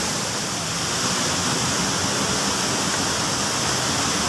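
A river and a twin waterfall in the Minang countryside of Solok Selatan pour continuously in a steady, loud, broadband rush of water with no breaks and no talking.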